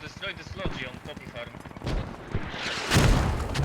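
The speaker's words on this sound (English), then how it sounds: "Cynico goes down with a great mortar round" Mortar round impacts and rifle fire in the military shooter game Squad: scattered cracking shots build into heavier booming blasts toward the end, with speech mixed in.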